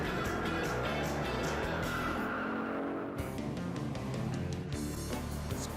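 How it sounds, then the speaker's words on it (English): Classic American muscle cars screech their tires through turns, with continuous rubber squeal and engine roar at moderate distance, the sound shifting as the cars move through the corners. "Screeching rubber through turns"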